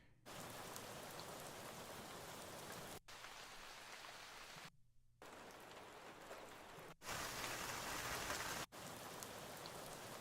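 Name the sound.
rain sample in Ableton Live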